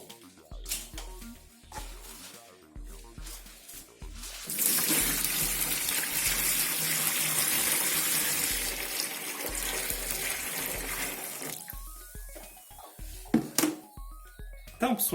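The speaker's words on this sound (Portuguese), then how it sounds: "Agora eu vou encher aqui d'água." Water pours steadily into a container for about eight seconds, a loud continuous rushing gush that then tapers off, with light handling noises before and after.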